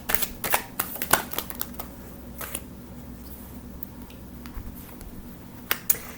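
Tarot cards are shuffled and drawn during a reading, giving a handful of sharp riffling snaps and soft slaps spread unevenly over a quiet background, close to the microphone.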